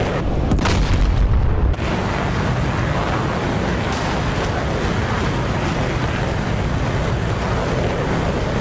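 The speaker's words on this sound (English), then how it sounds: "They are shooting the missiles down now." Explosions from missiles being shot down in a naval video game battle pitting a WWII battleship fleet against a Russian carrier group: a loud booming blast at the start, then a sustained roaring rumble like wind and surf.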